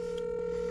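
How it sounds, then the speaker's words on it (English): A telephone rings in a home, a steady electronic tone holding at an even level through the short moment with no talking over it. "Phone ringing."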